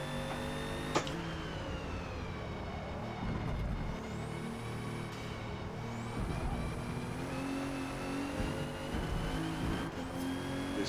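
A 2017 Alfa Romeo Giulia racing around Mugello in Forza Motorsport, its engine droning steadily with rising and falling revs and sharp upshifts as it laps alone.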